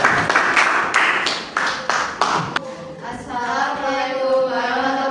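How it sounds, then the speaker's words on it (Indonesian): A classroom of eighth-grade students claps for a classmate, a dense burst of many hands lasting a couple of seconds and then fading out, followed by a quieter stretch with a voice and a faint tonal hum. "Oke, tepuk tangan buat kamu"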